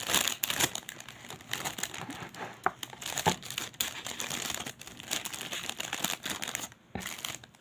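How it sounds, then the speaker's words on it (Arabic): A plastic bag is opened and crinkled by hand for a plaster crafting project, giving close, continuous crackling and rustling with sharp bursts throughout and no voices. "هنفتح بقى الكيسه بتاعتنا كده اهي تمام"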